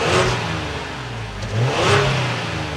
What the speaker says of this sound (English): We need to go inside, start it up, so you can hear that exhaust note.